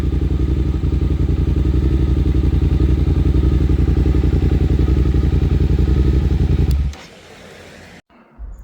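A Suzuki GSX-8S motorcycle fitted with a Delkevic full exhaust, baffles still in, idles and revs loudly and close with a steady throbbing drone for about seven seconds, then shuts off and goes quiet apart from a few faint knocks.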